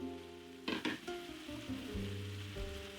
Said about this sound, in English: Next, I will return the beef into the pan.